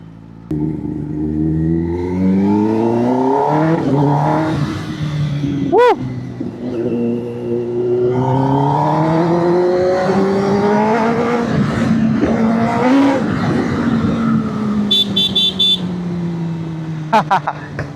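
A Kawasaki ZX-10R liter-class sport motorcycle revs and accelerates on an open road, its engine note climbing repeatedly through gears in loud, sustained sweeps, with a brief horn-like beep near the end.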